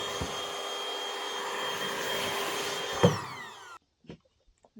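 An electric air pump inflating a truck bed air mattress makes a steady, fairly loud mechanical whine with a constant pitch, then winds down and stops abruptly, followed by a few faint, scattered sounds.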